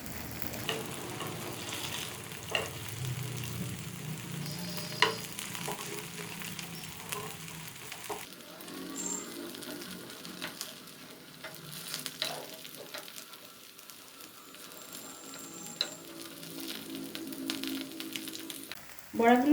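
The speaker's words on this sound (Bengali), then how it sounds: "এভাবে উল্টে পাল্টে গ্যাসটাকে হাই ফ্লেমে রেখেই 2 থেকে 3 মিনিট আবারও ভেজে নেব" Pointed gourd fritters sizzle and crackle in hot oil over a high flame, a steady frying hiss broken by occasional clinks and stirring sounds that grows brighter toward the end.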